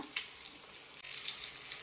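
Fish coated in masala with curry leaves frying in a pan over a gas flame in a home kitchen, a steady close hiss and sizzle running through the whole stretch with no talk.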